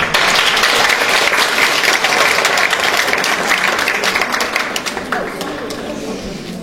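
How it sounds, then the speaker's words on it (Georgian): Loud, dense applause from an audience at a school recital competition, honoring teachers, sustained steadily and fading slightly toward the end. "დავაჯილდოოთ ტაშით"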